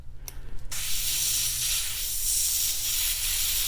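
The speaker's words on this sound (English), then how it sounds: "I need to clean this airbrush too." An airbrush being cleaned lets out a strong, continuous hissing spray after a few short sputtering bursts at the start, close and loud throughout, with no voices.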